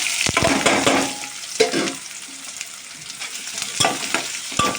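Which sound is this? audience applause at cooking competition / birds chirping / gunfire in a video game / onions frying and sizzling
onions frying and sizzling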